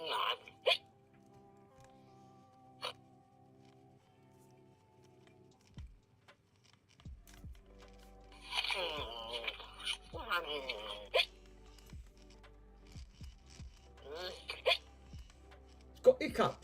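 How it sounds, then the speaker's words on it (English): A Furby toy hiccups in short, sharp chirps scattered at irregular intervals, with warbling electronic voice sounds from the toy in between and quiet background noise. "It's got the hiccups."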